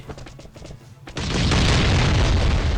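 Scattered clicks and rumbles in the survival game Last Island of Survival give way to a sudden loud explosion that roars on in a dense, sustained blast.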